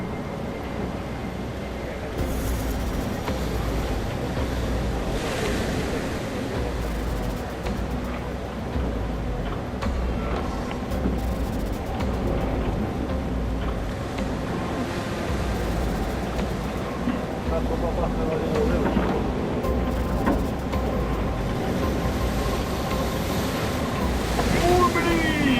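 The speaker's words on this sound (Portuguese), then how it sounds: "Uma tempestade no Oceano Ártico." Storm on the Arctic Ocean: heavy waves and strong wind batter a ship, a continuous loud roar of surf and gusting wind with rumbling wind noise on the microphone throughout.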